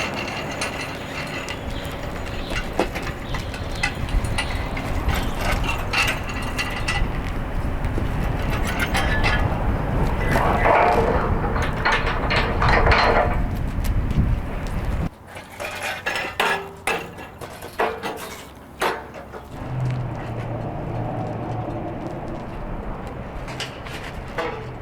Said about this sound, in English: we're going to grab the 4 Archer 1200 barriers that make up the outside of the Archer Rapid Gate